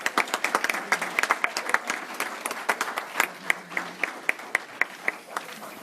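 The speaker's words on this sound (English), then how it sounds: "We could just do one more round of applause for everybody that we just recognized." A room full of people applauding, with steady overlapping claps that thin out toward the end into scattered individual claps.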